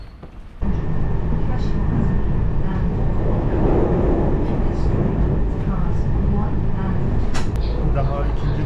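Steady rumbling drone of a moving train heard from inside the carriage, continuous and fairly loud, with faint rattles and clicks over it.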